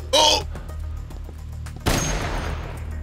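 Gunfire in Dead Rising Deluxe Remaster, a gun fired at a TV: a sharp loud shot with a crashing burst around two seconds in, over a low game hum, after a brief exclamation at the start.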